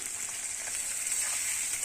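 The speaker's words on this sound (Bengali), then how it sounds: "তো আলুটাও ভেজে নিচ্ছি" Potatoes fry in hot oil with a brief, steady, close-up sizzle and crackle, and no voices.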